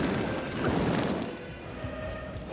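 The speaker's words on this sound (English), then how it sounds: "That one, that's an explosion." A dense, rumbling blast from an in-game explosion in Lords of the Fallen (2023), loud and close, swelling with a crashing burst then rolling off into a lower decaying rumble.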